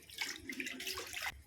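Water splashes and trickles briefly into ground masala in a home kitchen, a short, faint pouring sound with no talk.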